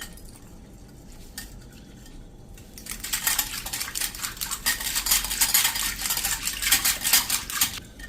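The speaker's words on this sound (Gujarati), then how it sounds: "અને હવે આને આપણે વિસ્કરથી વિસ્ક કરી લેશું।" A metal whisk beats gram-flour kadhi batter in a bowl, starting with a few light taps and then building into rapid, steady clattering strokes that run close and loud for about five seconds.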